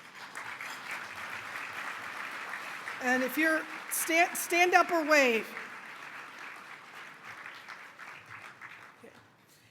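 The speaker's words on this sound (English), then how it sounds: "we should give a round of applause to the NOACA staff" Applause for the NOACA staff at an annual meeting and luncheon, a soft, steady patter of clapping across the room while a speaker talks over it, briefly louder in the middle.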